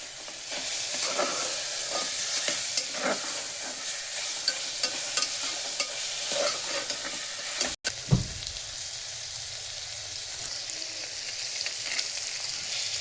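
Tomatoes sautéing with turmeric and masala paste in a hot pan, a continuous close sizzle and frying crackle with intermittent stirring scrapes, briefly interrupted midway before the sizzling resumes.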